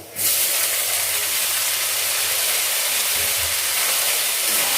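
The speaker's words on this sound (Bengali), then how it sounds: "এবারে আমি এর মধ্যে আমার সেদ্ধ করে রাখা পাস্তাটা এর মধ্যে দিয়ে দেবো।" Boiled pasta tipped into a hot pan of fried onions, a sudden loud steady sizzling hiss that starts abruptly and holds evenly at close range.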